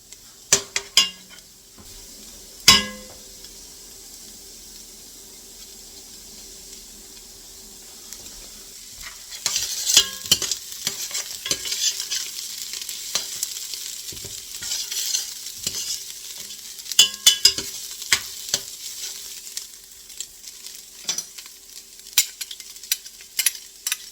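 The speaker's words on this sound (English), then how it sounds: "I'm going to add the garlic." Garlic sizzles in a pan of well-cooked onions over lowered heat for tomato basil soup, with steady frying hiss, a spoon stirring and scraping, and occasional clinks of utensils against the pot; no voices.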